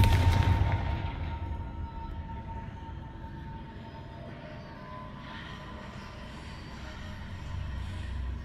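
A loud blast from the Confringo fire spell in Hogwarts Legacy bursts at the start, then fades into a long, low rumbling tail over steady ambient game background sound.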